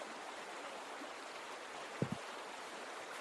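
An underground river in a cave, from the Lost Chronicles of Zerzura adventure game, rushes in a steady, broad wash of flowing water, with a couple of short knocks partway through.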